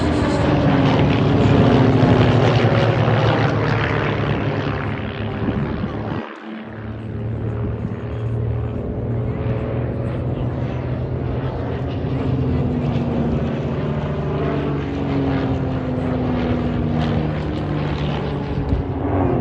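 Propeller aircraft flying an aerobatic display at the Midlands Air Festival, its engine droning loud and continuous with shifting pitch as it loops overhead, a brief dip partway through, and an announcer's voice talking faintly over it.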